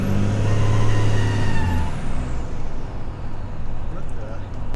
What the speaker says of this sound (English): There's like a squealing noise, and I don't think it's my tire peeling out. It may be a boost leak.